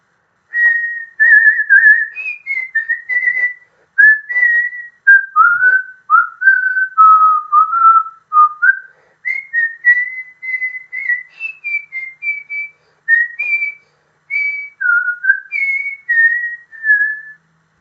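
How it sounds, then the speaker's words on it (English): A person whistles a happy song solo and close by, the bright melody flowing in continuous phrases with short pauses between them. "He cannot keep himself from whistling the happy song."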